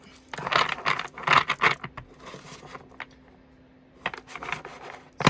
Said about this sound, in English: I'm feeling the need to shuffle differently, but this deck is so stiff